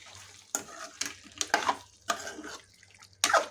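A spoon stirring salt into Kolhapuri mutton curry, with sizzling frying bursts and scraping strokes in a pan, about five distinct surges over a few seconds, close and moderately loud.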